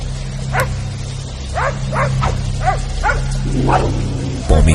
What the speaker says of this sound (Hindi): पॉमी के भौंकने और रोने की आवाजें सुमित को परेशान किए जा रही थी